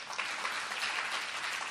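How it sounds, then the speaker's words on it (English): An audience at a spiritual discourse on the Mahabharata claps in a dense, even burst of applause lasting under two seconds. "Clap louder."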